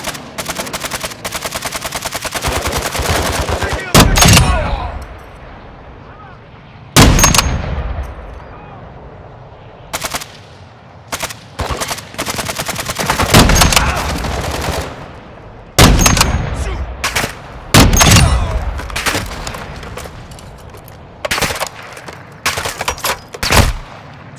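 Gunfire in Call of Duty Modern Warfare 2: loud bursts of automatic fire and sharp shots come in clustered volleys with brief pauses between them, close and dominant, with game sounds underneath.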